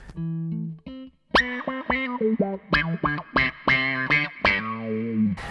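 Guitar through a KO Amps Interstellar Burst pedal opens with sharp swells and sudden volume spikes, a run of distorted, quacky filtered notes and chords played close and loud, with no voices.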